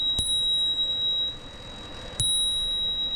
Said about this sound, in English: my bell is getting choked